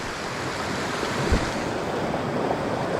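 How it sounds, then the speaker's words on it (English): Water rushes down from the mountains at Banishead waterfall in the Lake District, making a steady, loud, broadband roar that holds unbroken throughout, with no voices over it. "I was surprised how much water's coming down from the mountains"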